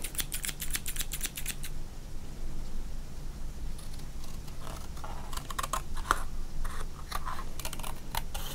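Scissors snipping through a sports card, a quick burst of sharp cuts at the start, then scattered closer clicks and snips over a steady rain-like hiss.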